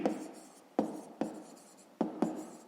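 A pen writes on paper during a fifth-grade maths exercise, with short scratchy strokes in quick bursts separated by brief pauses, close and quiet.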